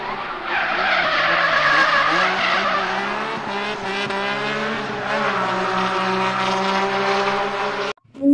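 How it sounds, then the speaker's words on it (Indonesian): Toy race car skidding, a loud continuous whining, squealing tone with sliding pitch that holds for about eight seconds before cutting off abruptly near the end. "ini mobil balap"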